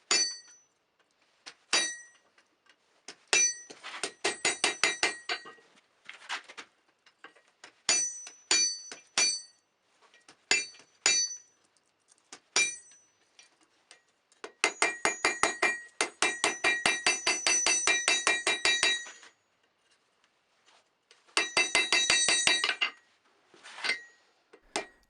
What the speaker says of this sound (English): I'm using the corner of the anvil to beat down the high section between the cut and the tang